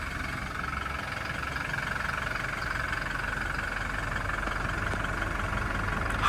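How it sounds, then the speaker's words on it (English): A Toyota Hilux GD-6 with a 2.8 liter diesel engine idles outside, heard as a steady, moderately quiet clattering hum that holds an even level throughout. "We're gonna go have a quick listen to that engine from the outside."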